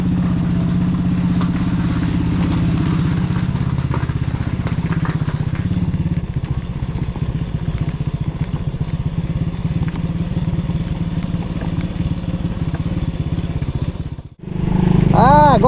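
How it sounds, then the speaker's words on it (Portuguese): A heavily loaded Honda Biz 100 motorcycle riding on a road gives a steady mid-pitched engine drone with road rumble that eases after a few seconds, then a brief dropout and a rising rev near the end; someone talks over it. "pegando a estrada aqui, e já digo pra vocês que a moto tá bem pesada"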